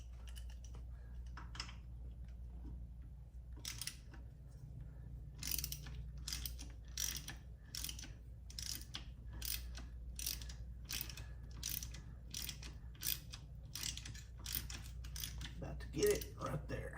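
A hand ratchet turns a small bolt on the rear axle of a 2000s Honda Rancher 350 ATV during a bearing job, giving a steady run of quick clicking strokes in repeated bursts, close and fairly quiet over a low hum.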